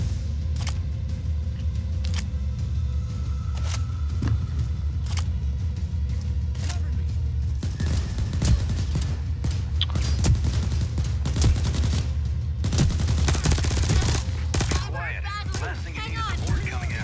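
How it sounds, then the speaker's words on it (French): Rapid bursts of gunfire from Overkill's The Walking Dead video game crackle over a steady, dense background mix. Sharp shots repeat in irregular volleys throughout, loud and close. "Les gunfights sont pas extrêmement nerveux."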